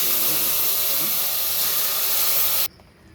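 Mustard seeds and cumin spluttering in hot oil in a pan for a Tamil spinach kadaiyal, a loud steady hiss and crackle that cuts off abruptly near the end, leaving quiet.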